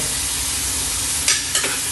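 Butter sizzles steadily in a hot pan with onions for a burger, a dense continuous frying hiss, close and fairly loud, with a couple of brief scraping stirs near the end.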